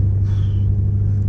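A 4x4 running over a corrugated dirt track on the Canning Stock Route in the Australian outback, a steady low droning rumble from inside the vehicle with no talk.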